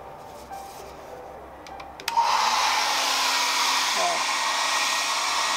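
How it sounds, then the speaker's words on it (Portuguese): A small hair dryer starts up and runs steadily, loud and close, blowing to speed the drying of a watercolor sunset painting; a few light taps precede it, and a brief exclamation is heard just as it switches on. "Eu vou acelerar a secagem com esse secadorzinho aqui."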